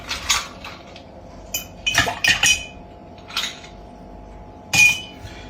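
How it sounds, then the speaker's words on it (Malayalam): Several sharp clinks as ice cubes drop into a glass of vodka, in separate bursts with quiet pauses between, close and clear. "ഐസ് ക്യൂബ്സ് ഇടണം."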